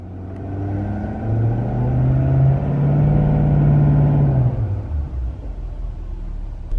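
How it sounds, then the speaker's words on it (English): A 2017-19 Ford F-250 pickup in four-wheel drive revs hard for a launch, its engine rumble climbing and holding loud and close for several seconds before dropping back to a low idle. "Now we're gonna give it gas."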